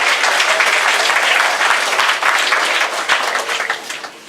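A school audience claps loudly for sixth grade graduates honored as avid readers, a dense, sustained ovation that thins slightly toward the end.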